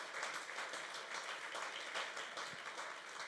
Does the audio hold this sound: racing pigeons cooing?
no